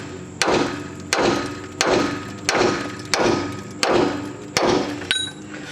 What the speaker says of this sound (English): Just take the smaller hammer and tap on it first,